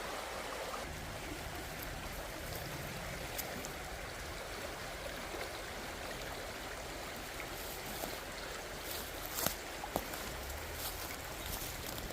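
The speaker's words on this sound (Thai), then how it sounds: "โอ้ยเนาะนู่นน้ำน้ำไหลแรงมากจ้ะ" Strong flowing stream water rushing steadily along a streamside in the German countryside, a continuous broadband roar with no gaps, heard from nearby at an even level with a few faint knocks toward the end.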